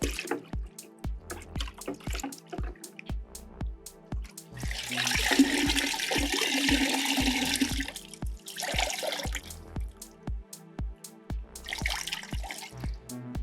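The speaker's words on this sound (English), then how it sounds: "So I'm gonna take this one and I'm gonna throw it in the bucket that has rinseless wash. I'm gonna mix it up a little bit." Towel dunked and swished in a bucket of rinseless car wash water, with several bursts of sloshing and splashing over a few seconds, and a steady pulsing ticking running underneath.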